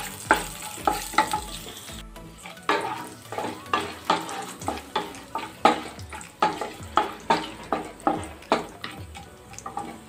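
Food frying and being stirred in a pan while cooking a Bhimavaram restaurant-style chicken fry for egg biryani: loud close sizzling with a regular series of sharp scraping stirs, roughly one every half second.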